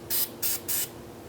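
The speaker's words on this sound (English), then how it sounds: "I'm going to spray the threads with" Copper spray aerosol applied to the threads of a 2003-2009 Subaru Outback tie rod: three quick hissing bursts from the can, close and fairly loud, with no talk.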